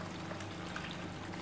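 A submersible pump's water line streams into a small-holed plastic colander holding gravel above a DIY bucket aquarium, giving a continuous near pouring and splashing rush with no talk.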